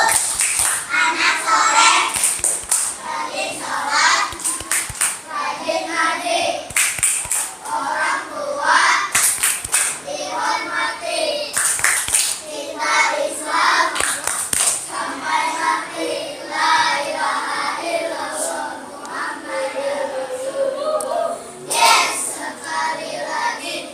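Children clap along in a rhythmic group chant in a classroom, sharp hand claps punctuating young voices chanting and speaking throughout, fairly close and loud.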